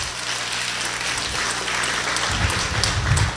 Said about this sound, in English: nice round of applause for Mike and Kyle Johnson.